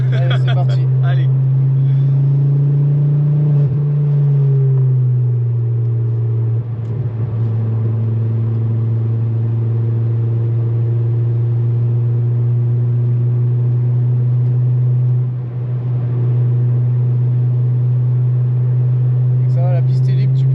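Ford Focus lapping a race circuit, its engine a loud, steady in-car drone that drops in pitch around one shift and then holds a constant rumble, with faint road noise.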